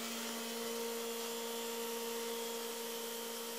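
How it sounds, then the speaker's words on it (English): A vacuum in a workshop runs with a steady, droning motor hum and a high whine, continuous and even throughout, with no voices. "When I turn on the vacuum,"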